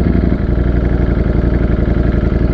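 A 208 HP two-cylinder motorcycle engine runs steadily up close, a loud, even throbbing drone with a rapid pulsing beat and no talk over it.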